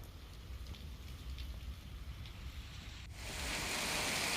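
Early-morning rain falls in Bhavnagar city, a steady broad hiss of drops that swells noticeably louder toward the end, with no voices.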